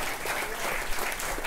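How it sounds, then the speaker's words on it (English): Jazz club crowd at The Jazz Kitchen giving a steady round of applause for a musician, dense continuous clapping throughout. "let's give him a round of applause"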